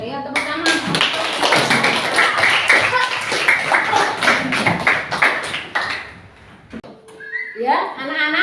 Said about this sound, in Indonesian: Pinter ya, tepuk tangan.